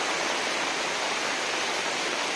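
Water rushes through Nekkarekalaya dam during rain, a loud, steady, close roar with no pauses and no voices.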